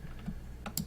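Computer keyboard arrow keys tapped during digital drawing in GIMP, a few quiet separate clicks, with two sharper taps near the end, alone.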